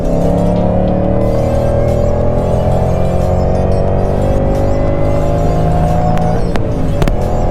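A 550whp Ford Mustang GT accelerates hard through the gears, its engine note climbing loud and close in a long sustained pull before a quick shift break near the end.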